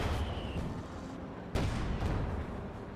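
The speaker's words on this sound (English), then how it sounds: "Quick exchange of fire there." Gunfire and artillery in a Company of Heroes 2 multiplayer battle, scattered distant shots and thuds with one sharper blast midway over a steady battlefield din.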